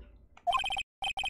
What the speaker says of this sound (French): Le téléphone s'est mis à sonner.